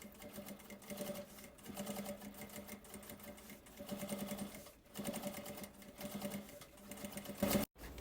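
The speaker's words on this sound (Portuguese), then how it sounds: "Faço uma costurinha aqui nele, na parte do fundo também, avesso com avesso" Sewing machine stitching a seam along the bottom of a fabric nail polish holder, sewn wrong side to wrong side, running in steady close whirring bursts with short pauses and a brief stop near the end.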